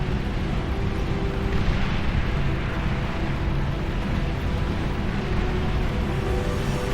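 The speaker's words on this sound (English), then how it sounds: "A bombing run." Bombing run explosions in the real-time strategy game Beyond All Reason, a dense, continuous roar of overlapping blasts and rumble that stays loud and steady with no pauses.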